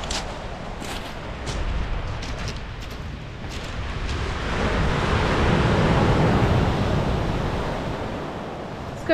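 Ocean surf at very high tide swells into a broad, rushing wash, close and rising to a loud roar midway before easing off, with some wind buffeting the microphone.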